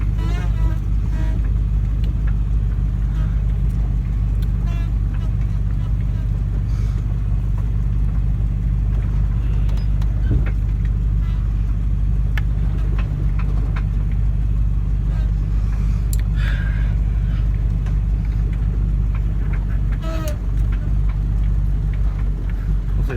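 Jeep Cherokee engine idling and running, a heavy low rumble that stays steady and close for the whole stretch, with faint clicks and small knocks over the top and some quiet talk.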